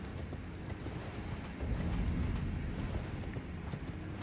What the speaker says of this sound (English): Mount up on our horse and we're gonna keep on going.